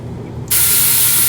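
A sudden, loud hiss of a facial mist spray starts partway through and holds steady to the end, close and bright.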